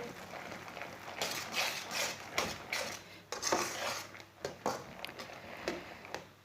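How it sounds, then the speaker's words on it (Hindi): Metal spoon scraping and clinking against a pan while stirring a peanut and jaggery chikki mixture off the heat, irregular repeated scrapes and taps, fairly quiet and close, no speech. "इसे 1 मिनट तक ऐसे ही चम्मच चलाते रहेंगे"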